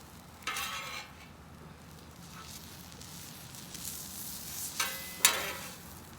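French toast and homemade hash browns sizzle steadily on a Blackstone griddle at close range, a continuous frying hiss broken by a few sharper bursts and scraping spatula clatters, with no talking.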